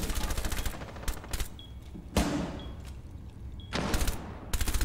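Rainbow Six Siege gunfire rips out in rapid automatic bursts, loud and close, separated by short gaps with quieter single shots in between.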